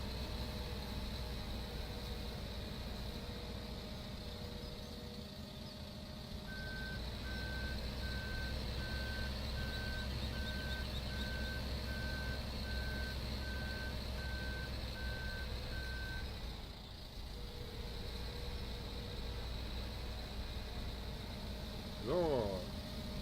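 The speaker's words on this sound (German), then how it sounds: "Hier fährt jetzt ein Rotlader bei mir vorbei." A loader wagon in the farming game Farming Simulator 17 rolls past, giving off a steady run of evenly spaced reversing beeps for about ten seconds over a constant low engine drone.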